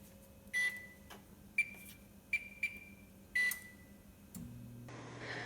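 Oven control panel beeping while being set to preheat to 200 degrees in a home kitchen: five short electronic beeps, single and paired, at moderate level over a quiet room hum.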